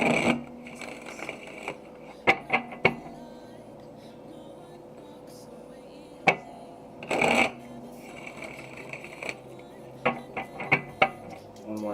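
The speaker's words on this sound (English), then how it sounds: "One more shuffle." Tarot cards being shuffled in a relaxed reading session, several brief riffling bursts and soft card slaps scattered between quiet pauses, close by.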